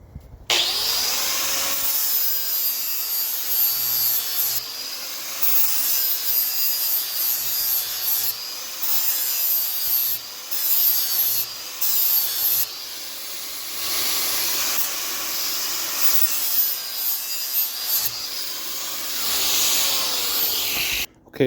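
A flat file rasps steadily across the edge of a Lawn Boy mower blade, a continuous close scraping hiss with brief pauses between strokes and no talking.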